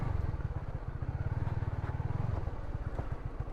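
A clutch-geared motorcycle rides slowly over a rough, damaged road, its engine giving a low, pulsing chug with throttle surges and rattling bumps, close by and without talk.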